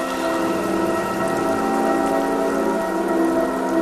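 Heavy rain pours down in a steady, dense, loud hiss with no break, on a battlefield where soldiers' weapons and shields are soaked.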